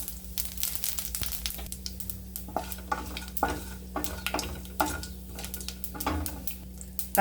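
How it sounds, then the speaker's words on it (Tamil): Mustard seeds and chana dal frying in hot oil in a kadai, a steady sizzle with scattered crackles and sharp pops of seeds bursting, close and alone without speech. "எண்ணெய் கஞ்சிச்சு கடுகு போட்டுருவோம் கடுகு புரியும் போது கடலை பருப்பு போட்டுக்கலாம்"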